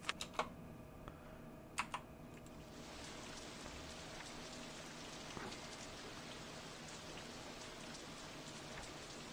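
Rain in the video game OpenRCT2 sets in after a few soft clicks, becoming a constant dense patter that stays even and moderately loud to the end.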